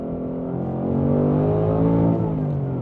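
A Ford Mustang Dark Horse with a six-speed manual accelerates hard in second gear, its engine note rising and droning loudly from inside the cabin as the tires spin.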